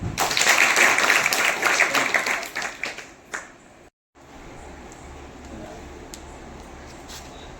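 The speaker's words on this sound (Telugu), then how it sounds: "చప్పట్లు కొట్టండి" Students at a girls' hostel break into loud, close applause with dense, fast hand claps, which then stop abruptly and give way to a quieter room with scattered taps.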